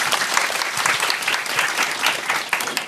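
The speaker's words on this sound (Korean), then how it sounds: "박수로 맞아주세요." Sustained applause from an audience, dense and even clapping throughout without a break.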